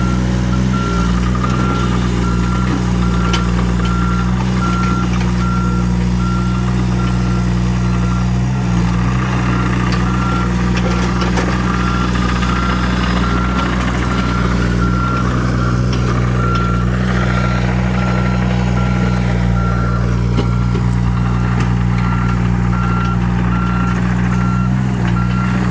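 A truck's reversing alarm beeps steadily and evenly throughout while its engine idles with a low, constant rumble, on a site where a trench for underground wiring to an off-grid aquaponics greenhouse is being backfilled.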